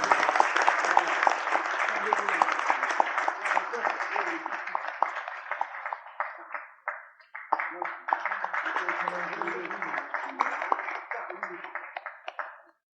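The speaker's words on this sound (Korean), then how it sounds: "예, 박수로 환영해 주시죠." Sustained audience applause welcoming a lecturer as he is presented with a bouquet at a graduate business school alumni event, dense clapping from a large crowd that dips briefly midway, then swells again.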